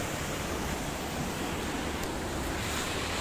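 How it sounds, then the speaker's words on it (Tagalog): High ocean waves roll and crash at Tahara Long Beach in Japan, giving a loud, continuous roaring surf with wind noise and no letup. "Taas ng alon."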